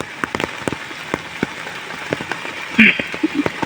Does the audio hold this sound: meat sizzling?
no